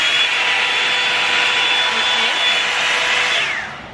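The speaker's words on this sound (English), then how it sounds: "some of you guys have been asking how loud the blow dryer is, and this is how loud it gets on high" A Revlon One Step hair dryer and volumizer blows on its high setting, a loud, steady whirring roar with a high whine, close by, then winding down at the end.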